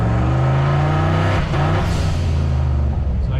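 A turbocharged Foxbody Mustang fitted with an On3 turbo kit and Megasquirt engine management revs loudly up close, holding a steady droning roar with a brief surge midway and no talk over it.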